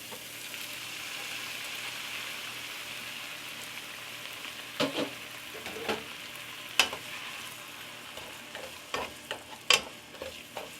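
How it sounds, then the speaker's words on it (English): A cup of mirepoix hits hot fat in a pot for pasta e fagioli, giving a steady close sizzle, with a scatter of sharp stirring clacks and scrapes in the second half and no talking. "After about a minute, we're going to add our mirepoix, a cup of it."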